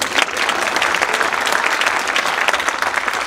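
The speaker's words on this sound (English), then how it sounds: "And so clap for Rita Patton." Dense, steady applause fills the hall from an audience at a high school Wall of Fame induction ceremony, continuous and fairly loud throughout.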